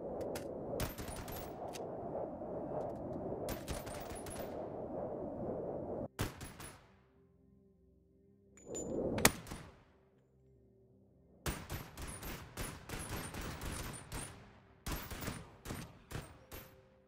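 Rapid bursts of exploding-bullet gunfire in the VR game Boneworks, loud dense volleys at the start, a quiet gap with a single shot midway, then more repeated volleys and separate shots toward the end.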